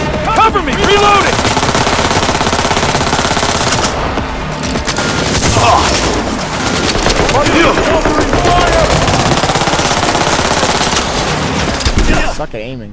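Rapid automatic gunfire from a video game shooter rattles loudly and almost continuously for the whole stretch, with bursts layered over one another and occasional voices mixed in.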